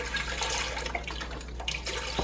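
Beef broth poured from cartons into a soup pot in a home kitchen, a steady close splashing gush of liquid lasting throughout without talk.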